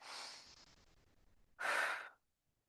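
A close, deep breath during a yoga session: a long airy inhale trailing off, a pause, then a strong forceful exhale, with no talking.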